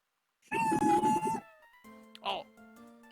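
A cat meows in a Phoenix Wright courtroom video game, one drawn-out synthesized meow followed by a shorter, softer one, with game music tones behind.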